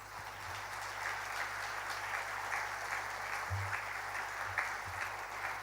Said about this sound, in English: a big round of applause for the pillars of the school, the teachers